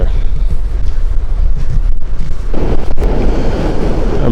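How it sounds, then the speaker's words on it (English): Strong wind buffets the microphone on a beach, a loud, continuous rough roar with gusty surges and low rumbling. "the wind is really picking up"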